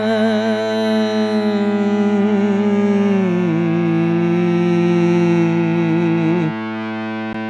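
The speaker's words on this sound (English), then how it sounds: "the reason it's called an Ebow is because it's supposed to simulate the sustain of a violin bow or a bass bow or a cello bow" Electric guitar sustained by an Ebow with no effects, giving a smooth, steady drone with a pitch change partway through. It is loud and unbroken, then drops in level near the end.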